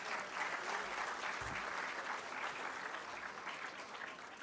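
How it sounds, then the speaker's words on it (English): Audience applause for the partners at the Schoolympics 2025 award ceremony, a steady, dense clapping that holds for several seconds at moderate loudness. "Can we have a round of applause for all our partners?"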